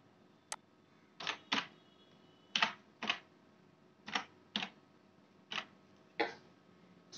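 Keys tapped on a computer keyboard while filling in a captcha on a form for an electricity connection fee in Odisha: about a dozen sharp, close clicks in loose pairs and singles over a quiet background, with no talk.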